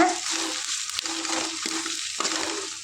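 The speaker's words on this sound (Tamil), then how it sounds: "கருவேப்பிலை சேர்த்துக்கலாங்க வெங்காயம் மிளகாயை நல்லா வதக்கிக்கலாங்க" Onions and green chillies with curry leaves sauté in a pan, a steady close sizzle with short scraping stirs every second or so, no talking.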